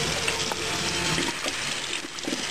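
Water runs and splashes as a person rinses white toothpaste foam from his mouth after brushing his teeth, a steady close splashing with small gurgles over the full stretch.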